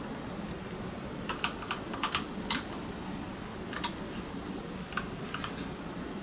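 Typing on a mechanical keyboard with brown switches, in scattered soft clicks and short bursts of keystrokes, faint and muted over a steady background hiss.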